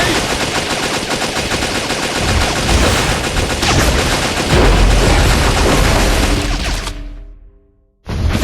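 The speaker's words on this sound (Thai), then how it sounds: "ได้เวลาสาดกระสุน" Dense, rapid gunfire and bursts fill the mix from a Metal Slug Awakening boss fight against the Pharaoh, loud and continuous for about seven seconds before cutting off abruptly, then briefly returning.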